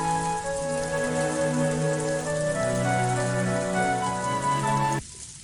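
Steady rain sound effect in the visual novel Umineko When They Cry, a continuous hiss of falling rain laid under sustained music tones until both cut off abruptly near the end, leaving near silence.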